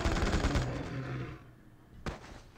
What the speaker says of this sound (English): the enemies down there can actually fire back because they're made of guns